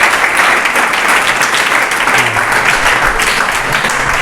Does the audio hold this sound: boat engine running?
no